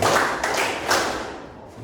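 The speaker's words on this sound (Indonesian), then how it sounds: "Yang dengan suara Bapak tepuk 4 kali." In a junior high school class, a teacher claps a short rhythmic pattern of a few sharp hand claps in quick succession, fairly close and clear, with a soft room echo and no voices.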